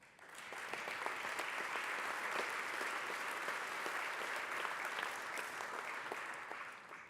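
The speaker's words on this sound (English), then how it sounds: "join me in showing our appreciation to each other with a round of applause" Legislators in the Texas House chamber give a sustained round of applause after the election of the House Speaker, a thick, even wash of many hands clapping that lasts several seconds and sounds fairly distant and soft.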